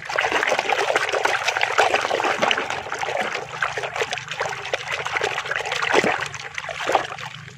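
Water runs and splashes steadily while Ultraman toys are washed, a close, busy trickling and spattering stream that carries on unbroken for several seconds with no talk.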